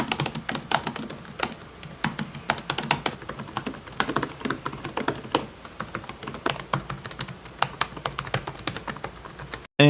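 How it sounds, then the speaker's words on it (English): Rapid typing on a Razer Blade 15 laptop keyboard, close and crisp, with irregular bursts of key clicks and brief pauses, and no talking. "here's how it sounds compared to the Flow X16 and the Asus Zephyrus G15"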